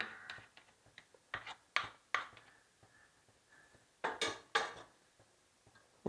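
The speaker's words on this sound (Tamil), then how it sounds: "விஸ்க் வச்சு இப்படி கிண்டுங்க." A whisk stirs thick fenugreek batter in a pot, giving a faint series of light metallic clinks and taps in irregular bursts, quiet between strokes, with no voices.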